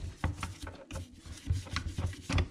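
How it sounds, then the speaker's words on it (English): Brisk scrubbing of a brush on a grimy 1963 VW Beetle carburetor, quick irregular strokes, close but fairly quiet, with no talk. "Yeah, we're brushing the carburetor."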